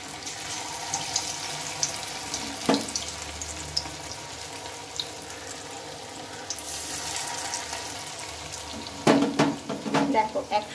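Pieces of food frying in hot oil in a pan give a continuous sizzle and crackle, with louder clattering and stirring near the end, close and steady.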